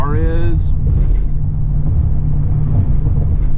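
Low, steady interior rumble of a 2001 Toyota Sequoia 4WD on the move, a dense engine and road drone filling the cabin throughout, with a person speaking briefly at the start.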